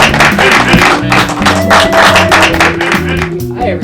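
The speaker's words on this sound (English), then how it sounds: "Please hold your applause." Studio audience applause greeting the host of a late-night talk show, a dense steady wash of clapping that runs throughout, mixed with band music.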